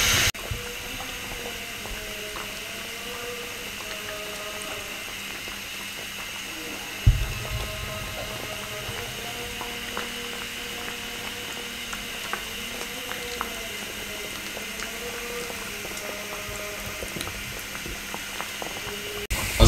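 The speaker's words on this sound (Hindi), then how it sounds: "प्यार प्यार से इस तरह इनको फ्राई होने दें" Balushahi sizzling slowly in hot oil over a low-to-medium flame, a steady soft bubbling that runs throughout, with a brief clatter partway through.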